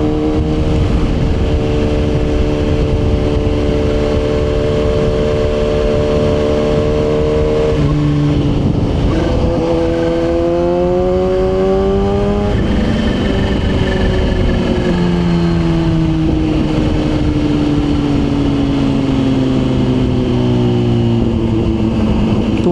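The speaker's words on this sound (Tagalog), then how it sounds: "Iba yung tunog ng exhaust eh." Kawasaki ZH2 motorcycle exhaust while riding, a loud, close, steady engine drone with the pitch climbing through gears and easing off, wind rushing throughout, no talking.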